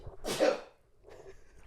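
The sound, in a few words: sneeze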